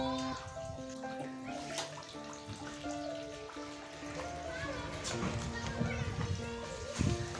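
Water pours steadily into a fish pond during a partial water change, a continuous splashing, trickling wash like a filling tub that runs throughout, close and moderately loud, with faint voices in the background.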